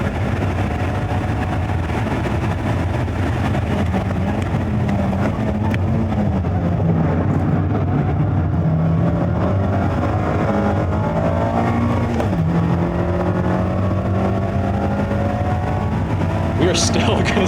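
Mazda Miata ND3 driven hard around a race track, its engine droning steadily and shifting pitch through gears over a constant roar of road and wind noise.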